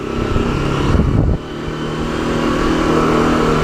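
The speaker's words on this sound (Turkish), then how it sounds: "Biraz böyle ısındırın motoru" A Honda CBF 150 motorcycle engine idles while warming up, steady and close, with a loud rumbling drone and a brief wind-buffeting swell that drops away before the idle settles evenly.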